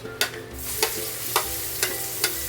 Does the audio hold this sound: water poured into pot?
no